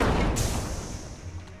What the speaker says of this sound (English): The BSG's powerful blast will make short work of nearly